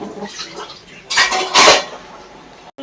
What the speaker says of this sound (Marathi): मी घासते आता भांडी पूर्ण